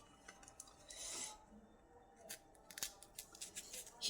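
Okra (bhendi) ends are trimmed in a home kitchen: quiet, irregular small snips and scraping cuts, faint and close, with no talking.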